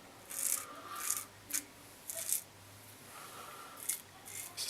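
Straight razor shaving a face, a very close shave: soft rasping scrapes in short strokes, several separate passes with pauses between, quiet and near, no talk.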